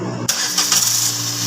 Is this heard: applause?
no